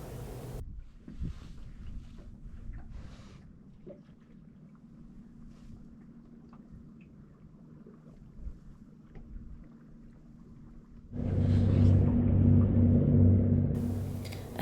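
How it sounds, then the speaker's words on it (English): A day tour boat passes in Holkham Bay, Alaska: wind and faint water lapping give way to a loud, close engine rumble with a steady droning hum that rises suddenly and holds for the last few seconds. "Another day tour boat."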